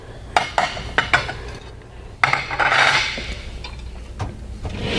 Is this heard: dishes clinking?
yes